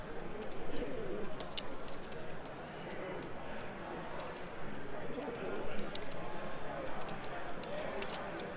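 Pigeons cooing at an indoor club pigeon show in a Lancaster, Pennsylvania inn, including a holy cropper, a powder-type breed, with a steady murmur of many birds and crowd noise throughout and scattered sharp clicks.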